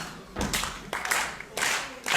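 A wrestling crowd at a tag team match claps in rhythmic bursts, the hand claps forming a dense, fairly distant rattle in uneven waves with brief lulls between them.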